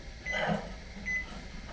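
An old microwave oven heating plastisol for soft plastic lures runs with a steady, low, noisy hum, with two faint, short tonal beeps over it.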